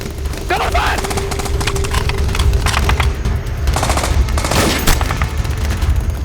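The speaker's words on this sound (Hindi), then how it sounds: "Cover fire!" Rapid automatic gunfire in a dramatized combat scene, giving cover fire: continuous loud bursts and chattering shots under shouted voices, dense and close throughout.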